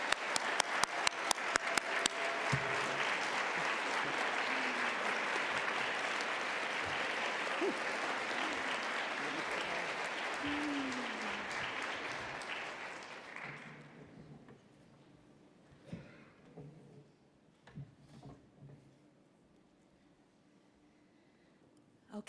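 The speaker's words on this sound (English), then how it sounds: "Please join me in one more round of applause for all of the 2025" An academic awards ceremony crowd gives a full round of applause for 2025 National Award winners, loud sustained clapping that tapers off after about thirteen seconds into scattered claps and quiet room noise.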